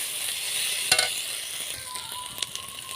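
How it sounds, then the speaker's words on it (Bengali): Spices with cumin powder sizzling in oil in a pan over low heat while being stirred for a Bengali parwal curry, a steady frying hiss broken by a few sharp scraping clinks. "হালকা আঁচ রেখে কিন্তু মশলাগুলো কষিয়ে নিতে হবে, যাতে মশলাগুলো পুড়ে না যায়"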